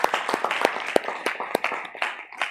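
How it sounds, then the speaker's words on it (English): A small group claps by hand at a livestreamed gathering, with a steady stream of bright, overlapping claps over about two and a half seconds. "Let's get up, give Miss Yahuwah a hand clap"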